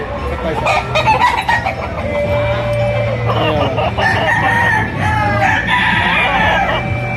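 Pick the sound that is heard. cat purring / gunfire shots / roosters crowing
roosters crowing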